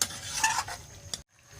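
Spiced cauliflower fries in oil, crackling loudly as a little water goes into the pan, with a stirring scrape before a sudden brief quiet and a softer simmer.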